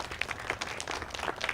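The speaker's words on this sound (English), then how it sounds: "So let's give them all a big round of applause serving this city." Crowd applause at an outdoor Memorial Day ceremony, a steady wash of many hands clapping at moderate distance for a brief stretch, with no voices over it.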